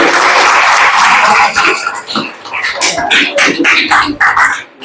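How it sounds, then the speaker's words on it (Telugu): Loud applause from an audience at a dance competition prize announcement, starting as a dense burst and breaking into scattered, uneven claps that trail off. "చప్పట్లు కొట్టండి గట్టిగా"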